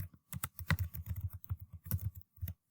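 Quick bursts of keystrokes clatter on a computer keyboard, close and clear, in an uneven typing rhythm with brief pauses.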